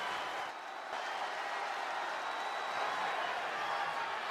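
Arena crowd in the WWE 2K25 video game roaring steadily, a dense broad wash of cheering and applause that holds at an even level throughout with no break.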